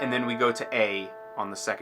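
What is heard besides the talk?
No everyday noise stands out behind the speech.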